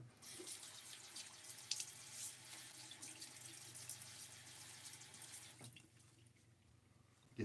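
A tap runs steadily into a sink while someone wets their face before a shave, a soft continuous splashing with small drips that cuts off near the end.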